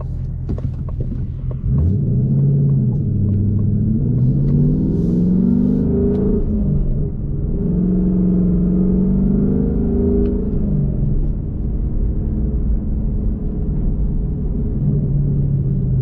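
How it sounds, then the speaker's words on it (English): A deep Ford Mustang exhaust in sport mode rumbles close by, the engine revving up and easing off several times before settling into a steady, throaty idle. "So I'll put it in the sport mode now, open up the exhaust a little bit."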